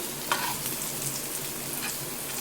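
Paneer cubes frying in butter with chilli powder in a pan give a steady close sizzle, with a brief utensil scrape near the start.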